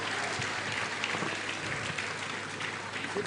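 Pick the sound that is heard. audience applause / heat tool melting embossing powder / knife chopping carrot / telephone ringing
audience applause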